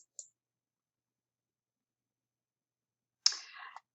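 A computer mouse clicked twice, a tiny faint tick followed about three seconds later by a slightly longer click, with silence in between.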